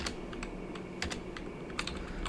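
Clicks of a computer keyboard as a command is typed, sparse irregular keystrokes at moderate volume with a small burst near the end, alone without talk.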